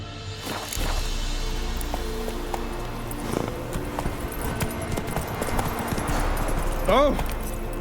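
A horse galloping in the video game Witcher 3, with rhythmic hooves clip-clopping steadily under voices and game background sound.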